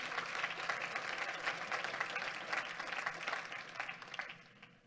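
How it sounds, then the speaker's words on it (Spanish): Church congregation applauding together, a dense, steady wash of many hands clapping at moderate distance that holds throughout, then begins to thin and fade in the final moment. "Denle un fuerte aplauso al Rey de la Gloria conmigo"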